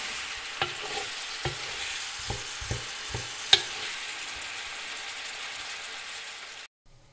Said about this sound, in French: ensuite on va mélanger un petit peu comme ceci et on va laisser rissoler durant